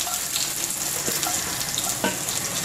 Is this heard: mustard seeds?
yes